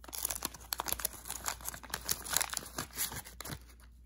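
A 1988 Topps baseball card wax pack is torn open up close, giving a steady run of crinkling and tearing of the wax paper, faint and with no talking.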